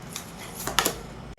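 A card is drawn from a deck during a card reading: a quiet papery rustle and slide with a short flick near the middle, heard alone without speech.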